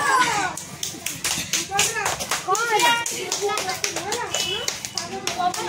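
Children clap their hands in quick irregular bursts of sharp claps while kids chatter and shout excitedly over them nearby.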